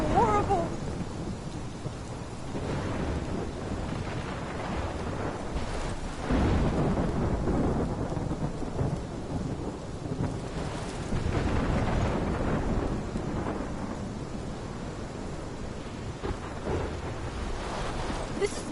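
Thunderstorm with heavy rain in the Life is Strange game: a constant downpour hiss with deep rolling thunder swelling and fading several times, no talk.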